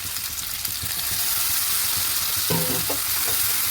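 Onion and tomato cooking in a pan for a Telugu brinjal and prawn curry, giving a loud, continuous close sizzle with faint low stirring knocks underneath.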